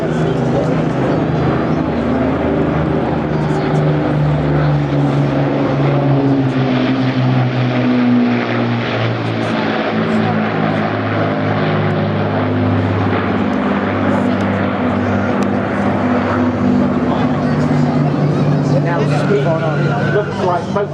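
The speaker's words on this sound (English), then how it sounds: "we like to dedicate this fly past of the 2 Lancasters to his memory" Two Avro Lancaster bombers flying past at a seaside air show in Clacton-on-Sea, Essex, their piston engines giving a loud, sustained droning roar with a steady pulsing throb that holds throughout, while an announcer talks over it.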